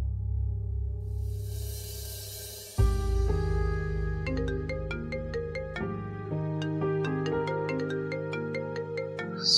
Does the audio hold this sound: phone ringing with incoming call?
yes